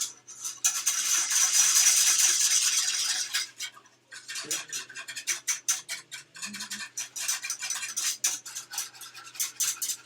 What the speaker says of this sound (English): So mix this together to make sure all the lumps are gone.